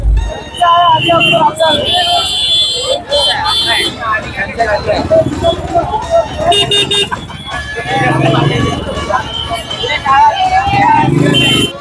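Heavy, jammed road traffic in the rain in Kurla West, Mumbai, during a Govinda troupe outing: a loud, continuous mix of engines and repeated horn toots, close and busy throughout, with people talking over it.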